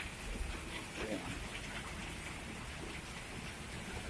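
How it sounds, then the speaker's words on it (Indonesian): Steady rain falls throughout as a constant hiss, with a faint low rumble underneath. "Kegiatan hari ini hujan guys"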